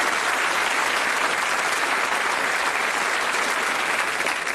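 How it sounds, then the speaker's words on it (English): A studio audience at the Bullseye TV game show applauds steadily, a dense, loud, even wash of clapping that holds without a break for the whole stretch. "Give her a round of applause."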